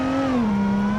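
A race minivan's engine in BeamNG.Drive at a racetrack, holding a loud, steady droning tone that dips slightly in pitch as it settles, heard alone and close.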